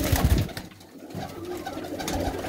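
Racing pigeons coo in soft, low, throaty calls close by, with a brief dip in the middle of a short stretch.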